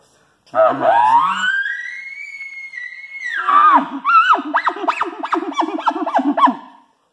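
A voice imitates an elk bugle, a long rising whistle that holds high, then breaks into a quick run of about ten guttural chuckling grunts.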